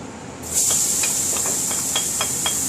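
Onions hit the hot fat in a pan and start sweating for an osso buco, a sudden bright, steady sizzle with small spitting pops and crackles scattered through it, close and loud.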